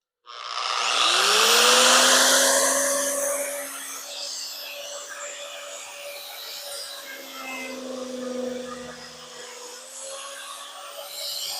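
Arbortech Mini-Carver power carving blade spinning up with a rising whine, then steadily cutting a light wood piece with a continuous raspy grinding hum that holds for about ten seconds, close and loud, no talk.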